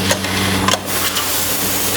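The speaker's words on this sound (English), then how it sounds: "the first station we call the bag feeding conveyor" Powder packing machine with a bag feeding conveyor for 280 mm wide bags, running with a steady mechanical hum and repetitive whirring, with a few brief clicks near the start, loud and close throughout.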